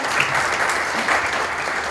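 Audience at a Women's Day celebration gives a steady round of applause, dense clapping filling the short stretch without a break.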